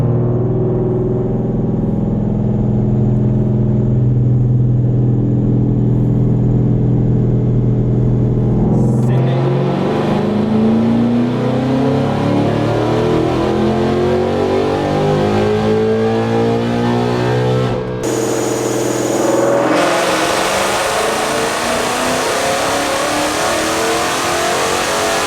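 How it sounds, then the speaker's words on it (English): A 700-plus horsepower car engine revs hard, loud and close, climbing in repeated pulls with sharp cut-offs between blips, heard alone without talk. "She runs so good. Sounds healthy."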